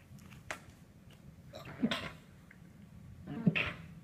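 A single sharp sneeze-like burst, then a second similar burst a moment later, both fairly close over a quiet background hum.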